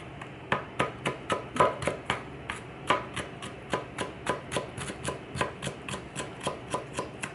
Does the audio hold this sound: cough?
no